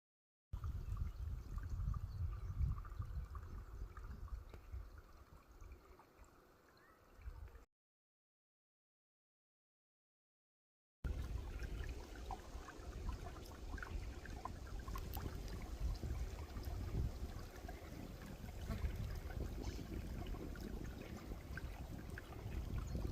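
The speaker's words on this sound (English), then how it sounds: "I hope you can hear the little trickle of the stream in the videos" A quiet, continuous trickle of a small stream bubbles on and on, briefly cutting out to silence before resuming, with no voices.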